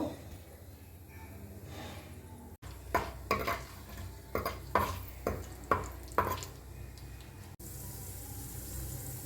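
Chana dal fries in oil in a pan for an amla and green chilli pachadi. A quiet stretch of faint sizzle gives way to a series of rhythmic clinks and scrapes as the dal is stirred, and soft sizzling continues throughout.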